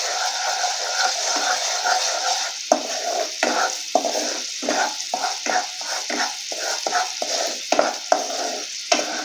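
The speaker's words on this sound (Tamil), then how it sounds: "கோதுமை மாவு பச்சை வாசனை போய் நல்லா வறுபடட்டும்" Wheat flour roasting in a pan for halwa, a steady dry sizzle broken by repeated scraping strokes of a spoon stirring through it, close and fairly loud with no voices.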